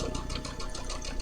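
Domestic sewing machine doing free-motion quilting, a continuous close motor hum with fast, even needle ticking throughout the short stretch.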